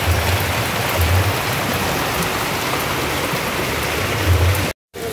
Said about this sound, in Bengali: ওই দেখো বলতে বলতে বৃষ্টি কত জোরে চলে এসেছে।